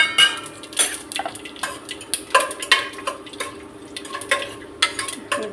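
Whole cinnamon and cloves tossed into about 50 grams of hot oil in a pan, with a steady sizzle under repeated sharp clinks and scrapes of a metal spoon stirring against the pan, close and fairly loud.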